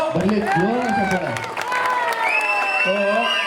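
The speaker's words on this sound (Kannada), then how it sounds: "ನನ್ನ ಕಡೆಯಿಂದ ಒಂದು ಪ್ರೀತಿಯ ಚಪ್ಪಾಳೆ" Audience applause and cheering at a Ganesha festival programme in Hosakerehalli, a sustained crowd roar at steady volume with harmonic tones from music or voices layered through it.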